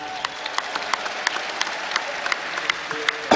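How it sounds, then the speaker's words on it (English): Crowd applause at a League of Legends esports event, European Regionals, in a large venue. Sharp individual claps ring out over a continuous wash of clapping, sustained and lively, with a brief louder burst right at the end. "I want you to give all of yourself a round of applause for being so damn awesome."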